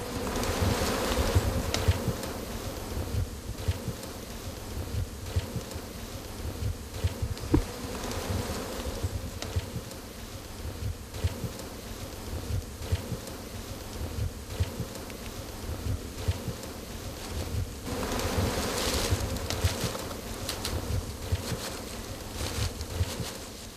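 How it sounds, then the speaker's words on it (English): Honey bees swarm around a disturbed hive in the Kerala forest, a dense steady buzzing of many insects close by, droning continuously for the whole stretch with slight swells. "Another beehive disturbed leads to another attempt in building a new home."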